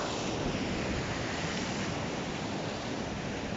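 Waves washing onto a rocky volcanic beach, a steady broadband rush of surf with some wind noise, continuous and fairly close.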